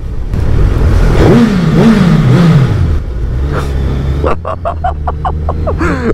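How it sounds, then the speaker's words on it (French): A 2024 Suzuki Hayabusa sport motorcycle engine revs up and down loudly, then settles into a quick series of sharp throttle blips near the end. "le son du moteur"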